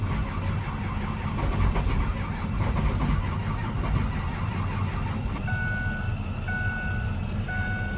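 A 2005 Ford F250 with a 6.0L diesel cranks hard and steadily while trying to start, loud and close, with a rhythmic churning that never catches, and a repeating electronic beep joins near the end.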